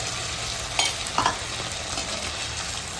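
Capsicum sizzles steadily in a hot pan while a ladle stirs it, with a couple of brief scraping knocks over the constant frying hiss, close and fairly quiet.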